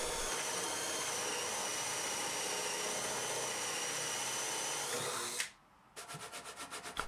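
A power drill bores holes through a wooden bench apron using a vise front as a guide, whining steadily and loudly, then stopping and giving several short pulsed bursts.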